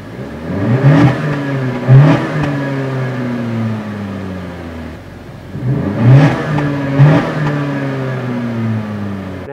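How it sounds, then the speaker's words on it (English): Stock exhaust of a 10th-generation 2019 Honda Accord sedan, warmed up, revved twice in pairs of quick blips that rise and fall, with the engine idling steadily between them, close and loud. "Let's take a listen to the stock exhaust on the Honda Accord."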